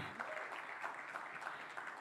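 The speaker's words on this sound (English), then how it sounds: "Come on, a round of applause" Applause from an audience at a motorbike launch event, a soft, distant wash of clapping that stays even across the short stretch.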